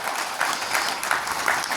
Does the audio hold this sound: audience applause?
yes